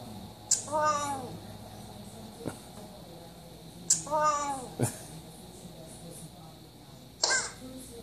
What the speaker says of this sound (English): Tom the cat